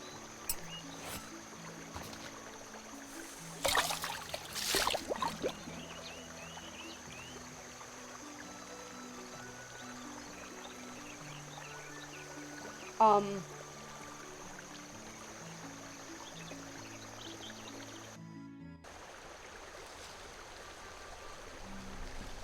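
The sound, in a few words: boat sailing down a brook in Night of the Rabbit video game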